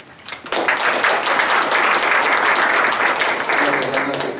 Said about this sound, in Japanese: ぜひ皆さんにこの拍手で承認いただきたいんですが、いかがでしょうか。